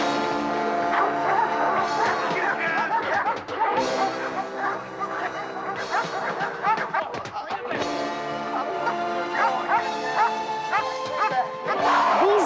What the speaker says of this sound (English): These dogs have a bark and a bite that could scare the wits out of any criminal.